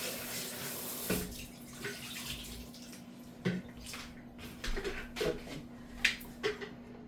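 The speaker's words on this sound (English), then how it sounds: "I'm just going to give this a quick little rinse" Water runs from a kitchen tap over fresh peppers being rinsed, a steady wash with a few clunks and splashes as the peppers are handled, no talk.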